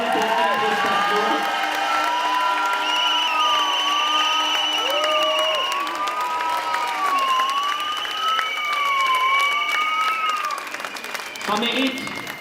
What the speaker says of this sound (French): Ça mérite effectivement des applaudissements